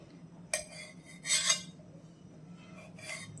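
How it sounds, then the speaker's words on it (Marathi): A knife slices through raw jackfruit stood upright and cut down the centre, making a few brief, faint scraping cuts with quiet pauses between them. "मी आता हे असे उभे करून ह्याच्यात मध्ये सेंटरला परत कट करणार आहे"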